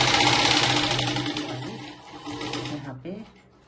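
A sewing machine runs a double line of stitching on a blouse, its rapid close mechanical whirr and clatter slowing and stopping near the end while someone talks over it.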